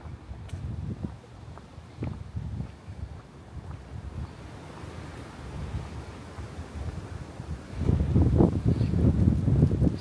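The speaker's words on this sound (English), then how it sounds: "Quite windy today." Gusty wind buffets the microphone outdoors, low rumbling and rustling that swells louder toward the end, with no voices.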